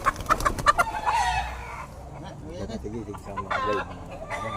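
A broody hen that will not sit on eggs clucks and squawks in quick bursts up close, followed by softer clucking as a person talks in the background.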